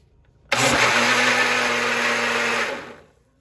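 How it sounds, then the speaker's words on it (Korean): A blender roars loudly for about two and a half seconds blending a shake with cookie pieces, starting abruptly at full speed and winding down at the end, then silence. "이제 믹서기로 갈게요."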